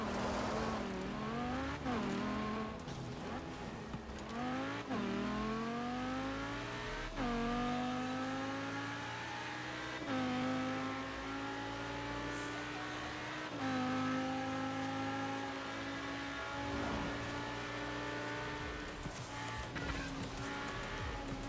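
A stunt car in Forza Horizon 4, driven during a waterfall-jump stunt mission: the engine revs hard through repeated upshifts, each rising whine dropping back at the gear change, steady and close throughout.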